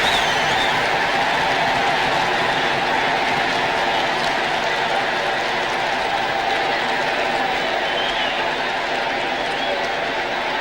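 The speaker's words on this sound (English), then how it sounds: "Tremendous roar from the crowd as John drives it right into the square." A big crowd at Croke Park roars after a goal in the 1973 National Hurling League final between Limerick and Wexford. The roar is loud and sustained, mixed with applause, and holds throughout without a break.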